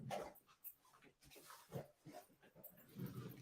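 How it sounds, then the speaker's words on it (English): A puppy makes faint, scattered whimpers and soft yips in short bursts, quiet and close, without speech. "I'm sorry for my background noise. It's my puppy being silly."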